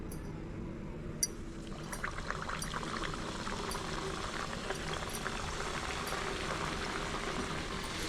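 Khaja sweets deep frying in hot oil in a kadai, giving a steady, dense bubbling sizzle that runs unbroken from start to finish, close and fairly loud, with no talking.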